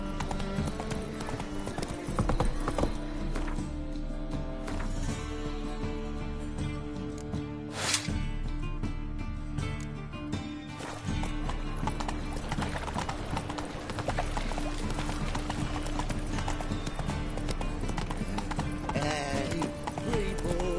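Hooves of the horse in The Witcher video game clip-clopping in a steady trotting rhythm, heard over a continuous game music bed, with a brief snort partway through.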